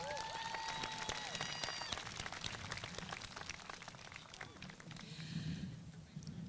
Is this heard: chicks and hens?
no